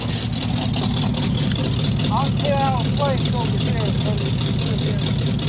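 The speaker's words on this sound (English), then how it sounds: "I'll show the exhaust while it's running." A carbureted 350 V8 in a 1974 Chevy Nova idles with a steady, rumbling exhaust burble, loud and close, while someone talks over it.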